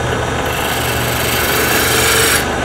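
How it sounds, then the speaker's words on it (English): Turning tool cutting into a square wooden blank spinning on a lathe while shaping a bottle stopper, a steady close, loud continuous rasping hiss with no pauses throughout. "when you start hearing how the tool is cutting on the wood"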